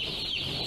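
Broiler chickens on a poultry farm in Terengganu, Malaysia, give brief, soft clucking over a low, steady barn background.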